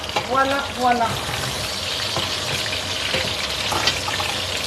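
Food frying in a pan, a continuous moderate sizzle with occasional crackles, under a brief burst of speech near the start.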